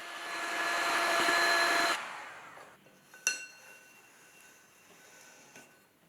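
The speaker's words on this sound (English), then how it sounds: "I'm going to give it a really good blast with a heat gun" A heat gun blasts a freshly thrown clay pot on a bat, a loud steady roaring hiss for about two seconds before it fades, followed by a few faint clicks and knocks.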